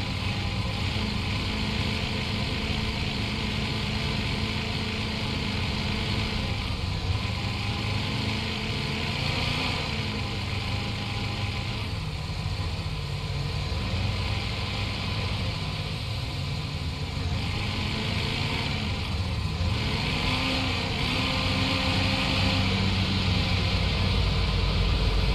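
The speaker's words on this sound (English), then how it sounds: "That taxi cab got a loud engine." A loud taxi cab engine in the video game Police Simulator: Patrol Officers drones steadily and close for the whole stretch, a continuous motor rumble without pauses.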